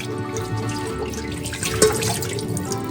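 Seafood being rinsed under running kitchen tap water, a steady, close splashing stream with small drips and no talking.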